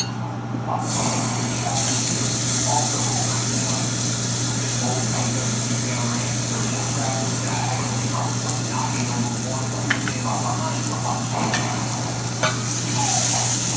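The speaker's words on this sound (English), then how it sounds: "I have a saucepan heating, so I want to put in the mixture of shallots, garlic and ginger." Shallots, garlic and ginger sizzle in a hot saucepan with a continuous loud frying hiss, a steady low hum beneath and occasional scraping stirs. A short quieter gap comes at the start.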